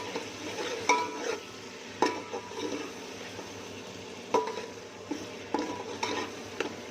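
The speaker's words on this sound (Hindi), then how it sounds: "टमाटर डाल देना है। अच्छे से हमने भूनना है।" Tomatoes fry in a pan for a chana pulao, with a soft sizzle under sharp, intermittent scrapes and knocks of a spoon stirring against the metal, close by.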